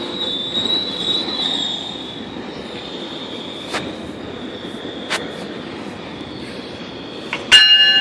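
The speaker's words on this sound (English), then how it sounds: "New cab car at the end of that train." A passenger train with a new cab car at its end passes at Danforth. Its wheels give a loud, sustained high squeal, broken by several sharp metallic clicks and a closing clank, with no voices.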